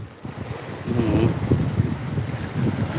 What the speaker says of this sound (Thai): คลื่นแรงจัง นะรู้สึกว่าคลื่น เรียกว่าคลื่นเริ่มแรงแล้วครับ